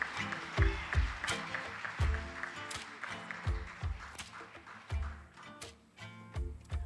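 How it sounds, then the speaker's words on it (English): Scattered applause from the audience at a teachers' association annual conference awards ceremony in Jamaica, faint and uneven, with irregular claps and thumps rising and fading over several seconds. "A round of applause, ladies and gentlemen."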